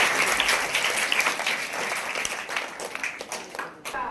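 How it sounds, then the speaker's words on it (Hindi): Audience applause at a Hindi-language press and student event, sustained steady clapping from a gathered crowd filling the room, gradually thinning toward the end. "एक बार जोरदार ताली।"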